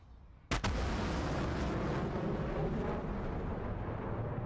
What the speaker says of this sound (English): The sonic booms, of course.